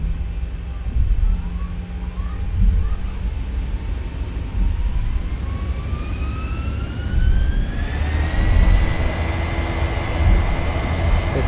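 Boeing 737-800 jet engines in X-Plane 11 spool up to takeoff power on a runway, a loud steady roar with a whine rising in pitch and settling into a higher sustained tone.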